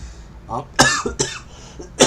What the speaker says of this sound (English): my lungs are like spasming out of control, and I'm having this big coughing fit